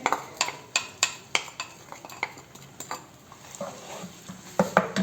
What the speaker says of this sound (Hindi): उसी ऑयल में मैंने ये प्याज शामिल कर दिए।